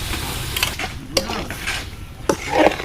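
Taro stems go into a pan of cooking shrimp and are stirred, with a soft sizzle under scraping and clattering of the utensil against the pot.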